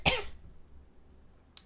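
A single sharp, close cough from a man with a lingering cough, followed by quiet and a brief second burst at the end.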